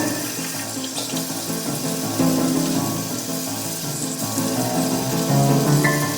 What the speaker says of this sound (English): I'm gonna get a little bit of water in my hands